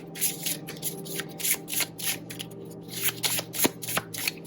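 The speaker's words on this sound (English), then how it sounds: "I'm just going to keep on shuffling, keep on going." Tarot cards are shuffled by hand in a steady run of crisp, riffling bursts that repeat every fraction of a second, close and fairly loud, with no talking over them.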